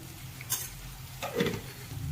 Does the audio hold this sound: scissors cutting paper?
no